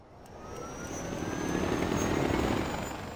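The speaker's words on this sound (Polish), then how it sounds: "O, jest. Nasz mini helikopter. No to lecimy sobie." A mini helicopter flying in the video game Far Cry 4, its steady rotor whir and engine drone swelling and holding loud and close.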